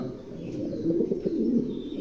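Mondi pigeons coo in a low, throaty, rolling murmur close by, a continuous soft burble with no other clear sounds.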